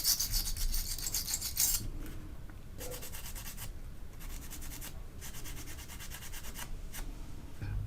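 Steady back-and-forth scrubbing rasps as a brush works solvent into old grease on a vintage Aristocrat console radio part, close and alone, in even repeated strokes with short pauses between passes.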